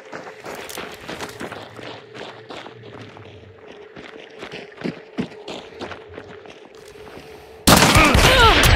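Gunfire in the video game Hunt: Showdown: scattered distant shots and footsteps thud under quiet talk, then a sudden loud blast of noise near the end.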